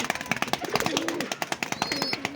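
A pet pigeon coos in soft, rolling, repeated phrases, close by and fairly quiet, with a few faint chirps and light background noise.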